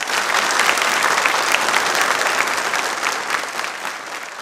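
A studio audience at a program marking Dr. B. R. Ambedkar's birth anniversary bursts into loud, sustained applause that holds evenly throughout and eases slightly at the end.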